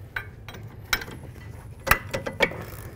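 Rear brake caliper bolts come off a 2006-14 Dodge Charger with a ratchet, giving a few sparse sharp clicks and metallic ratcheting snaps over a low background hum.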